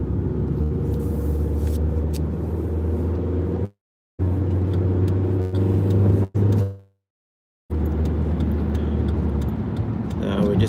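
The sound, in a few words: car driving on the road, premium-fuel car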